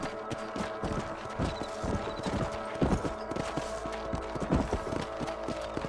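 Continuous clip-clop of horse hooves at a steady trot in the video game Red Dead Redemption, with a faint whinny and background music or ambience.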